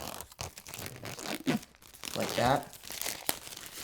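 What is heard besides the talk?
peeling plastic wrap off an Apple TV 4K box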